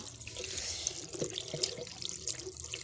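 Tap water runs and splashes steadily while hair is being washed in a Himachal village, with faint voices in the background throughout.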